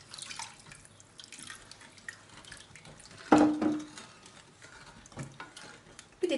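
Water poured slowly into a soup pot of roasted pepper soup thickened with flour while it is stirred, a soft trickling and splashing with a louder splash partway through.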